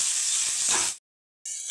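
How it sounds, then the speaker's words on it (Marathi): Finely chopped tomato sautéing in ghee gives a close, steady sizzle that cuts out abruptly, falls silent for a moment, then resumes more faintly. "3-4 मिनिट टोमॅटो सुद्धा आपण छान असा परतवून घेऊ।"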